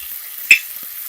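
Spices and a green paste of coriander, mint, ginger, garlic and chilli fry in oil in a pan for avarekalu pulao, giving a soft steady sizzling hiss with one sharp crackle.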